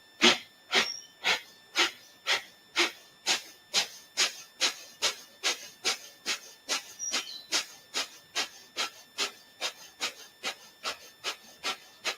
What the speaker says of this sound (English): Breathe in. Breath of fire.